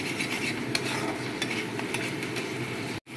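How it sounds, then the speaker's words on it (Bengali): A masoor dal vada mixture is stirred and sautéed in hot oil in a pan, giving a close, steady scraping and sizzle that runs without a break before a brief drop at the end. "একটু খুব ভালো করে কষিয়ে নিতে হবে।"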